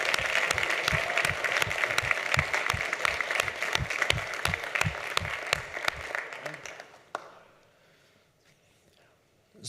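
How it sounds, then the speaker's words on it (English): Round of applause at a Fort Lauderdale city commission meeting, a roomful of hands clapping steadily with a few distinct sharp claps, then fading out around seven seconds into near quiet. "Congratulations. Round of applause."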